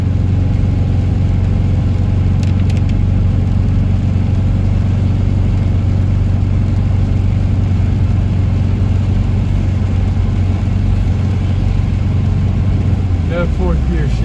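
A 1990s Subaru engine runs steadily at a constant low drone throughout, with no clear change in pitch or gear shift, and a brief faint rise near the end.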